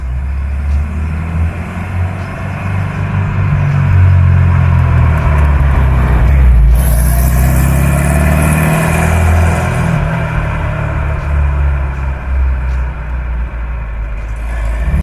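A 1961 Porsche 356B with a Super 90 engine running, a loud, steady low engine drone that holds for about fifteen seconds and swells slightly in the middle, with no talking over it.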